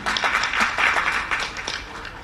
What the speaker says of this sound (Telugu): ఒకసారి మనకి మనం చప్పట్లు కొట్టుకోవాలి 4 కోట్ల మందిలో ఇక్కడ ఉన్నందుకు